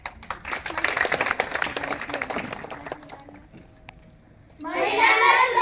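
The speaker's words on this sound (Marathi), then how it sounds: "टाळ्या." Applause bursts out from a crowd at a Navratri gathering on women's safety, a loud, dense patter of clapping that comes in near the end after a stretch of voices.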